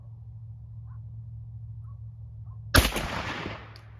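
A 12 gauge shotgun fires a 3 inch shell of 18 .29 caliber buckshot pellets over TPS and MG-42 wads through a Kicks turkey choke at 40 yards. One sharp, loud report breaks the quiet, and its echoing tail fades over about a second.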